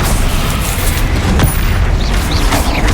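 Spell explosions from Bombarda and Incendio in the Hogwarts Legacy video game: a dense, continuous roar of booming blasts and crackling bursts, loud and close, with a sharp impact near the middle.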